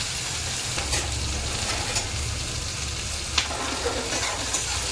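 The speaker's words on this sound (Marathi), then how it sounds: "कांदा जरा चांगला भाजून घ्यायचा" Chopped onion frying in hot oil over a cumin and mustard seed tempering for tomato chutney, a continuous dense sizzle with a low hum beneath and a few faint clicks of stirring.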